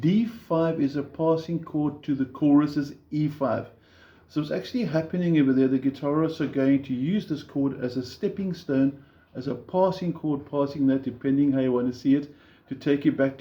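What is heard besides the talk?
None of the usual background noises is heard.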